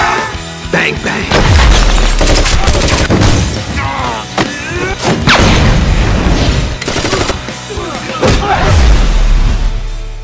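Heavy gunfire erupts in a crime-comedy film trailer, loud bursts and shots with booms and shattering, layered over shouted dialogue and music across the whole stretch.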